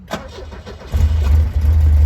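A 1974 Alfa Romeo engine cranks with a starter whir, then catches and settles into a loud, steady low idle, close by.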